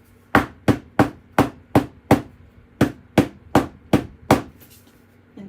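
Metal scraps for a junk journal are hammered flat, about eleven sharp, ringing strikes in an uneven rhythm with a brief pause midway, loud and close with no talk.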